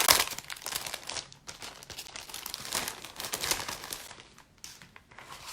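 A shiny craft-kit envelope holding stamps and dies is opened up close, making continuous loud crinkling and crumpling with some tearing, and no talk.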